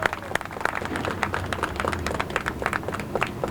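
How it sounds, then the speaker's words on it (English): Milwaukee Common Council audience keeps clapping for Bob Donovan, a dense, steady patter of many hands at moderate distance with scattered sharper claps and faint voices mixed in. "can we keep our hands clapping for Bob Donovan"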